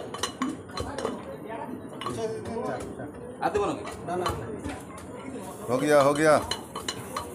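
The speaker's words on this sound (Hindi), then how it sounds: "अब मटन को अच्छे से मिलाया जा रहा है" A huge 20 kg batch of mutton is stirred in a large cooking pot with mustard oil, ginger and garlic. Metal utensils clank and scrape repeatedly against the pot while people talk nearby.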